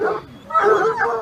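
Hunting hounds at the curée after a chasse à courre, yipping and whimpering barks close by in short bursts.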